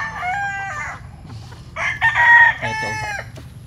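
A young Roundhead stag rooster crows nearby in two or three rough, breaking bursts, with soft background noise between the calls.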